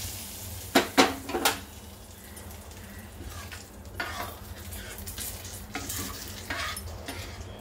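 A ghee tempering of cumin, asafoetida and dried red chili hits Rajasthani dal, making a few sharp loud sizzling bursts at first, then a steady frying hiss with occasional metal clinks of a spoon against the pot.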